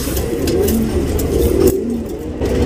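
Pigeons in a loft coo close by, with several low, soft, throaty coos repeating over a constant background hum.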